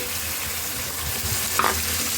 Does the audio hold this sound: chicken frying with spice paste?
yes